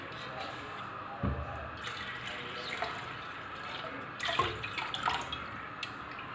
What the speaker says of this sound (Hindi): थोड़ा सा पानी इसमें मैं और ऐड कर दूंगी।